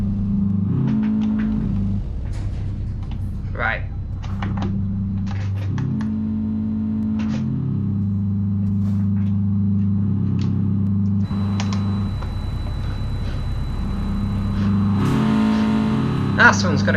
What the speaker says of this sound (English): Ah, someone's got a car on the server.